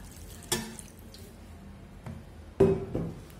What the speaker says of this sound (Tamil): இப்போ தேவையான தண்ணி சேர்த்துக்கலாம்.